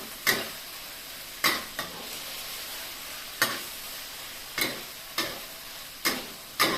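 Thai shrimp chili paste stir-fried in a pan on low heat, a quiet background sizzle punctuated by regular scraping strokes of the spatula about once a second, close and alone.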